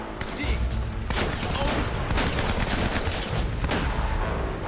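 Gunfire in the video game Uncharted: Drake's Fortune, with loud repeated shots and bursts across a busy, dense game soundtrack, shotgun included.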